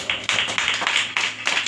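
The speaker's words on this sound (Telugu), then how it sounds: "చప్పట్లు కొట్టి దేవుని మహిమపరుద్దాం" A church congregation claps in praise of God, a steady run of sharp, rhythmic claps from many hands, loud and even, with no talking over it.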